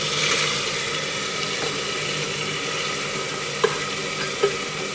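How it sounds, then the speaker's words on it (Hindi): A steady, hissing sizzle of lentils frying with spices in a pan, with a couple of soft scraping knocks from stirring near the end. "हम इसको अच्छे से भूनेंगे।"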